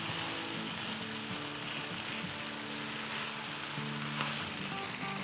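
Peanuts fry with a dense, continuous sizzle for kung pao chicken, a loud close hiss with faint intermittent stirring underneath.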